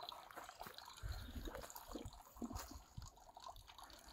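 Real water trickles outdoors in a faint, continuous, irregular flow with small drips and splashes, heard quietly and without talking.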